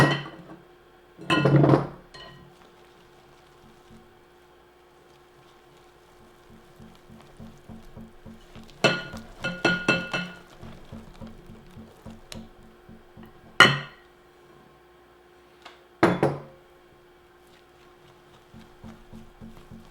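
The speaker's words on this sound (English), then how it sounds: "And I'll whisk that in." Dry ingredients being whisked into sweet cornbread batter in a bowl, giving a few brief, fairly loud bursts of clinking and scraping against the bowl with quieter rattling between them and no talk.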